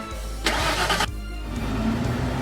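A truck engine starts and turns over in a short loud burst, then settles into a low steady idle that carries on underneath.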